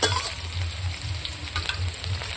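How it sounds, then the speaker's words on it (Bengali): Chopped onion, chili and bay leaf fry in hot oil with cumin, a close, continuous sizzle and crackle broken by light stirring scrapes, with no voices. "পেঁয়াজ, মরিচ, তেজপাতা তেলে ভাজা হয়ে গেছে, এখন আমি পেস্ট করা মশলাগুলো দিয়ে দেবো।"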